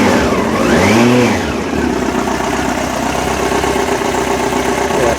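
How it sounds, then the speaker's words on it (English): A Yamaha FZ1 motorcycle, its carbureted early R1-type engine idling smoothly and quietly nearby, with one brief throttle blip at the start before it settles into a steady low idle. "And listen how quiet the motor is."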